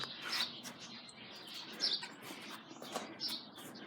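Sparrows chirping outdoors near a park building, several bright, quick tweets and short calls repeating at moderate distance over light background noise.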